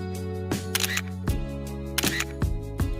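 A camera shutter clicks about five times in an irregular rhythm while photos are taken at a railway station, sharp and close against steady tonal music in the background.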